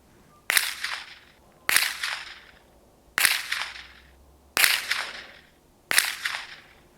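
Five sharp rifle shots fired at targets through a Leupold VX-5 HD 3-15x44 scope setup, spaced roughly a second apart, each a loud crack with a short decaying ring, no talking.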